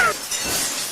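Glass shatters in a 1994 Hindi action film scene: a sharp crash at the start, then a bright scatter of breaking fragments fading over the next second.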